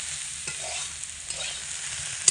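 Drumstick pieces and potatoes sizzle steadily in a hot pan while being stirred, the continuous close frying hiss broken by a few soft scrapes and knocks.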